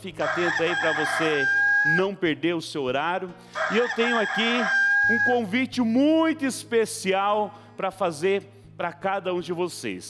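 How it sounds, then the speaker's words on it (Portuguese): A rooster crows loudly twice in long, drawn-out calls, with someone speaking steadily over and after the crowing. "olha a hora, olha o galo cantando"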